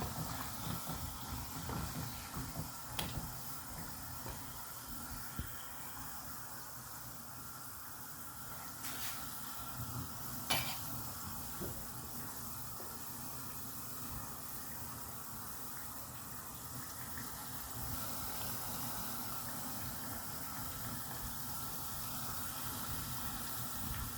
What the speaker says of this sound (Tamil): வடை பொரியுது